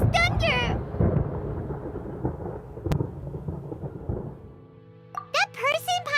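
Deep rolling thunder from a Genshin Impact storm rumbles for several seconds, bracketed by a character's voice talking at the start and again at the end.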